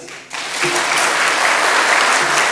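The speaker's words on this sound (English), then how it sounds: "if you've been to Visions before, please clap your hands." Conference audience at an opening session clapping hands, a sudden burst that swells into dense, even applause and holds steady at full loudness to the end.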